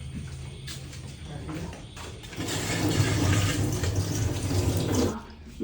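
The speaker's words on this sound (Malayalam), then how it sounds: "വെള്ളം ഊറ്റാൻ." Hot water poured off boiled sweet potatoes from a cooking pot, a close rush of water that starts lightly, swells to a loud steady gush in the middle, then tapers off near the end.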